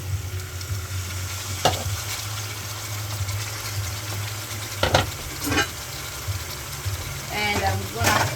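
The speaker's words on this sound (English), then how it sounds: "I'm gonna add some mushroom. I won't put tomato now, but I'm gonna add mushroom to cook together" Mushrooms cooking in a pan of Caribbean vegetable sauce, giving a steady low sizzle and bubble with a few sharp scrapes of stirring spread through it, close and moderately loud, with no talk.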